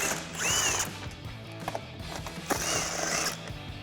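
Power tool driving a 15mm socket to remove end bolts from a 2021-2024 Ford Bronco front bumper, two bursts of whirring with a ratcheting buzz and mechanical clatter between them, fairly close, no talking.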